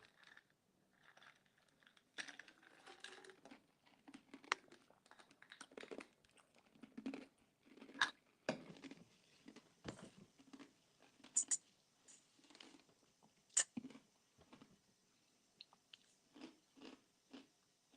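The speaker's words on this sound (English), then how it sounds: "apologize for chewing while I'm on the air" Someone chewing food close to a microphone, with intermittent soft crunches and mouth clicks scattered irregularly through a quiet background.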